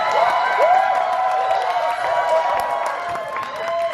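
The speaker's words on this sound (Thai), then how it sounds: "ขอเสียงปรบมือดังๆเ ลยนะครับ" Audience at a press conference launching new music artists applauds loudly and cheers, a dense sustained wash of clapping with shouts and whoops from many people.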